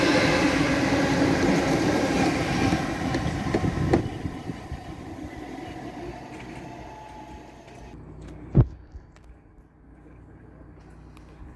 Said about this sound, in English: And a 8 car 455 service to London Waterloo.